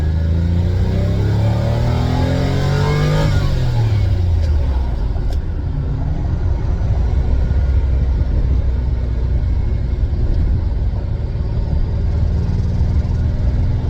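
A Lamborghini Countach engine accelerating hard in first gear: a loud, close, rising rev for a few seconds, then a drop to a deep, steady rumbling drone that carries on throughout.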